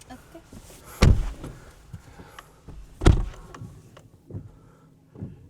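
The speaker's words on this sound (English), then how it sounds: "all right, close the door." Two solid thuds of a Tesla Model Y car door closing about two seconds apart, the first and second loudest, followed by fainter knocks and clicks in a quiet interior.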